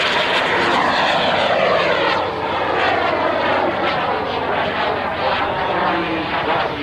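The Bud Light Micro Jet performs a Cuban 8 at an airshow, its small jet engine making a loud continuous roar with a sweeping, shifting pitch as it loops overhead.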